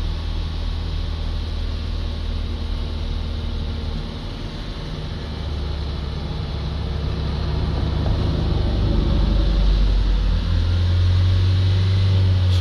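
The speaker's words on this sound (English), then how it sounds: "We'll get the engine speed up here so you can see where I am." Car engine in a workshop diagnostic session rising from idle to higher revs, a steady droning hum that climbs and grows louder toward the end, no talking.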